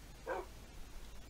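A single short dog bark from the Minecraft video game, close and fairly faint, alone against a low background hum.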